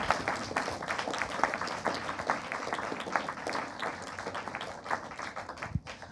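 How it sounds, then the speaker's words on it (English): An audience at a working group gathering claps for several seconds, a dense, steady patter of many hands at moderate distance, ending with a single louder thump. "So, because you were so good at that first round of applause, I would like to ask another one for Amauta, Yasmine, and David for all their hard work."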